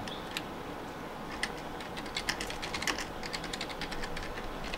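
Computer keyboard typing during an online Club Penguin session: an irregular run of light, quick key clicks, steady and moderately close, with no voices.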